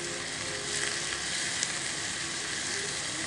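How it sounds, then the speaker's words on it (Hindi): Onions sizzle in about two tablespoons of hot oil in a pan. It is a continuous, even crackling hiss with no talk over it. "हमने 2 टेबलस्पून ऑयल लिया है, उसे हीट किया है ऑयल को, और उसमें ऑनियंस डाल दिया है।"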